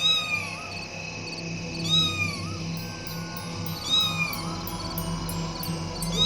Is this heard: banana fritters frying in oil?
no